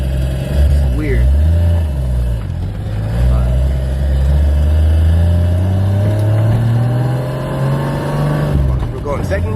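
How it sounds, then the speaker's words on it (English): A Nissan 240SX engine revs hard in second gear, rising steadily in pitch as it pulls, with a brief drop and recovery near the end, loud and close from inside the car. "We're going second gear. Watch the RPM."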